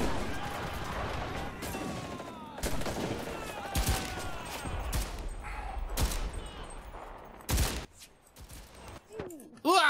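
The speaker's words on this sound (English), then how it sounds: "This is a machine gun" Bursts of machine gun fire ring out in a World War II battle for Berlin in the online shooter Enlisted, with loud rapid volleys and sharp crashes spread across the scene.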